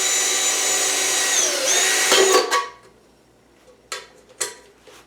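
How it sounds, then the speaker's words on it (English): A power drill bores a hole in a metal paint can for a homemade rocket stove. It gives a loud, steady whine for about two seconds, then cuts off, followed by a couple of sharp metallic knocks. "Maybe we will have to use a hammer and nail."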